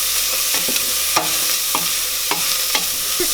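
Celery and carrots sizzle steadily in a hot pan for corn chowder while a utensil stirs them, with sharp scraping knocks about every half second over the constant hiss, close up and with no talking.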